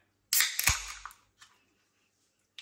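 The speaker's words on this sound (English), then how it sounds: "A little bit of smoke on the can opening." Pull-tab of a can of Frenchies Astrolabe Red Bière de Garde cracking open with a sharp hiss and pop, followed by a short fizzing tail and two faint clicks, close and alone.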